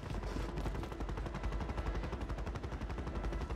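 Rapid gunshots ring out in Warzone 3 from a weapon set to single-shot fire, a dense run of closely spaced, loud cracks filling the whole stretch with no talk over it.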